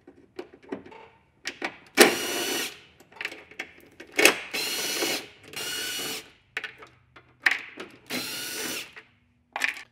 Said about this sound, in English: I'm going to be using a T27 Torx bit to remove the other 6 bolts that are holding this fender on